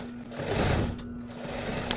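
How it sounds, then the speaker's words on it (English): A sewing machine runs steadily close by, stitching pet bed fabric with a continuous whirring hum and a fast mechanical rattle that stays fairly loud for the whole stretch. "So I'm going to go in with my machine and stitch this to be more flat."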